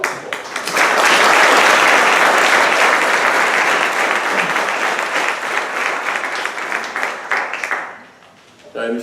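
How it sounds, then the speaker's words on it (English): A graduation ceremony audience at Topeka Collegiate School bursts into sustained, loud applause for families and friends, a dense wash of clapping that holds for several seconds before fading sharply near the end. "please join me in a round of applause for your family and friends who have made this day possible"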